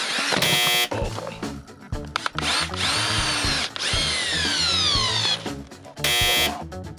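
A power drill strains and bogs down while stuck boring into firewood, its motor whining and wavering in pitch with brief stops and restarts, loud and close with no talk.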